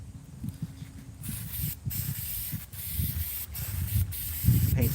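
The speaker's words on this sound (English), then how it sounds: "I've got a can of Rust-Oleum" A can of red Rust-Oleum spray paint hisses in close, uneven bursts with short pauses between passes while painting a truck part.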